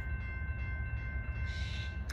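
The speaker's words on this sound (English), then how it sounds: "Here at the depot, they have a 2-scale little railroad that you can actually ride around in." Miniature ride-on scale railroad train at the Skykomish depot, heard as a steady low rumble and rolling hum throughout, with a faint sustained tonal whine and a brief brighter hiss toward the end, no talking.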